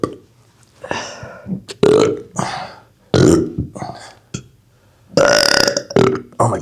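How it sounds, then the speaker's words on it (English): Several loud, close burps come in a row with short pauses between them, mixed with people talking and laughing. "I could go like this. Burp."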